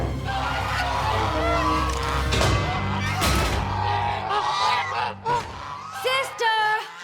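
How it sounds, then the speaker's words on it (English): Cartoon guard geese honk in a busy animated scene, with loud clattering effects and yelling, and a series of sharp honks near the end. "Another false alarm from Shining Armor's guard geese."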